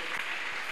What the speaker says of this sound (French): Nous voulons l'encourager par nos acclamations.